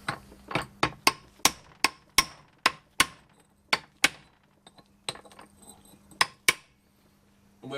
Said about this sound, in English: There's a lock tab to knock back there, so we'll do that while we're here. This is all a bit hammer and chisel again.